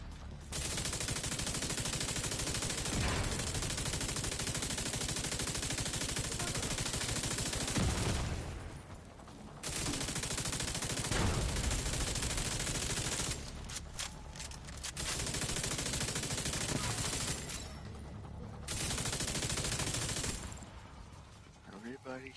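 Sustained automatic gunfire from The Division 2 rattles almost continuously and loud, broken by a few short pauses, over dense game sound with a voice at times.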